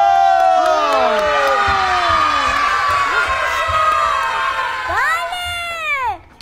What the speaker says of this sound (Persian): تشویق بالا.